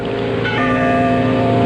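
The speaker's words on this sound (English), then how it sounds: "A bell. I think it comes from way down there in the gorge." A bell rings from far down in a snowy mountain gorge as a radio drama effect, its sustained metallic tones humming and shimmering over a steady low background, distant and unbroken, with no voices.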